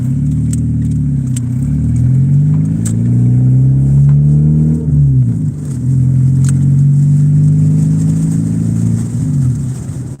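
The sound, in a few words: car driving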